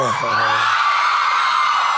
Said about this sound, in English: girls are screaming a lot now.